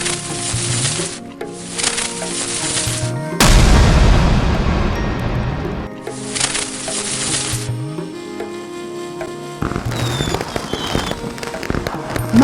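Diwali firecrackers bursting in repeated loud crackling volleys, with sharp bangs and sizzling fizz in several separate bursts, close and dense.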